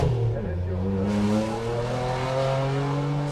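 A four-wheel-drive V6 rally car roars past at a forest rally sprint, its engine note sliding down in pitch as it passes close by, with a voice talking at the start.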